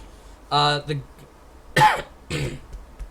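A voice gives a few short coughs and throat clears, close up, separated by brief pauses.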